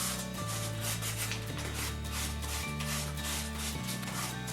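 Sandpaper rubbed by hand across the details of painted wooden furniture, quick repeated scratchy back-and-forth strokes under steady background music.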